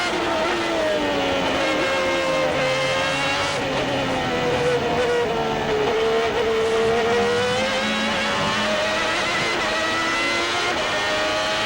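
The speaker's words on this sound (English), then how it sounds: "Listen to that 12-cylinder scream" A Ferrari V12 Formula One car screams at high revs on the Suzuka circuit during the 1992 Japanese Grand Prix, a loud, sustained wail whose pitch rises and falls as it shifts, with faint commentary underneath.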